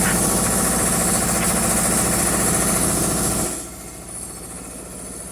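A lift machine's engine runs after being cranked, a loud, steady, rattling idle close by that drops abruptly to a quieter, lower hum partway through.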